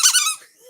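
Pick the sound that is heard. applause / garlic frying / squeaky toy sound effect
squeaky toy sound effect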